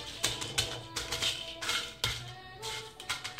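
Dried lychee shells tossed and stirred dry in a wok, giving a brittle, irregular crackle of light taps and scrapes, close and moderately loud, with no voices.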